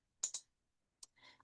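Faint computer mouse clicks sound during a Revit architectural modelling session: a quick double click, then a lone click and a softer trailing tick, close and quiet with no talk.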